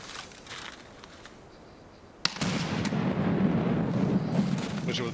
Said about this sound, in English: I'm just shooting bushes.